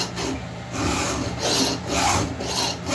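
A hand file rasps across a chainsaw chain while sharpening, with repeated close scraping strokes in an uneven back-and-forth rhythm, loud and alone without talk.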